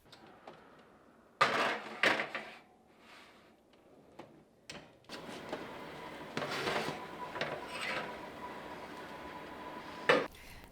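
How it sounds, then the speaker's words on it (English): Mini vegetable breakfast quiches going into the oven: loud metallic clunks as the oven door opens, a tray slides in with scraping and rattling, then a final thump as the door shuts, with no talking. "I'm going to stick these in the oven"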